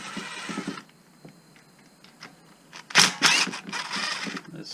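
Wrench work on the 8 mm bolts of a Honda Rincon 680 or Rancher 350 ATV cover, with faint ratcheting clicks early on, then a burst of louder metallic rattling and clatter close by near the end.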